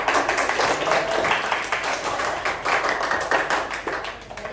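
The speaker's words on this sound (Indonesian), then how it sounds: "Boleh tepuk tangan buat" A class in a computing lesson claps together after a spreadsheet result appears, a dense, continuous patter of many hands in a room, fairly loud and steady throughout with a slight fade at the end.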